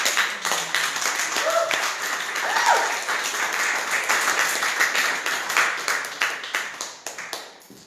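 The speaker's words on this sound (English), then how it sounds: "Clap them up." Audience clapping for contestants at a live event, a fairly close wash of hands that thins toward the end into separate scattered claps, with faint voices or whoops underneath.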